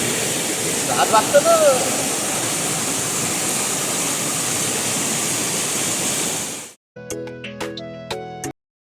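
Rushing water from a hillside stream or spring pours steadily and loudly nearby for several seconds, then stops abruptly. A few brief unrelated sounds follow.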